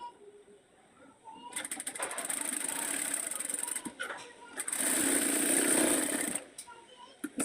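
A sewing machine stitches along the edge of a long sleeve, running in two sustained whirring bursts separated by a short pause, close and fairly loud over a quiet room.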